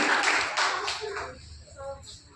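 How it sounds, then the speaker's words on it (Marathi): Audience clapping in welcome at a training event in Umred, Nagpur: a dense burst of hand claps that thins and fades over a couple of seconds, with faint voices and room noise underneath. "यांचं सुद्धा आपण टाळ्या वाजवून स्वागत करावं।"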